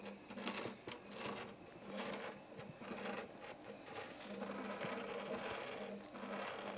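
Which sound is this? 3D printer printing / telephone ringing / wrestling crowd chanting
3D printer printing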